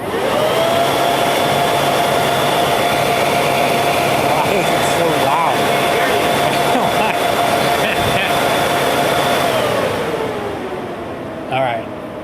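A home network server, a NAS, runs loudly with a steady high-pitched fan whine and rushing air, close and constant before spinning down near the end.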